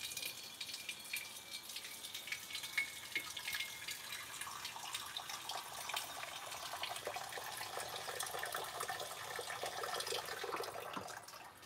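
Tap water runs steadily from an indoor faucet into an old dog's water bowl, a continuous hissing splash that stays moderately loud for several seconds with no voices over it.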